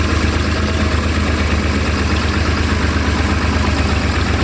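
A tractor engine idles steadily on an apple orchard farm in Italy, with a deep, throbbing rumble and constant vibration, loud and close, with no voices.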